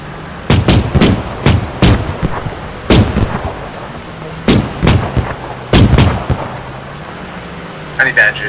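A squad's own gunfire in a military shooter, heard as spaced single shots and short clusters of sharp reports over a quiet background. Some shots sound close and punchy, and a brief radio-like voice chirps at the end.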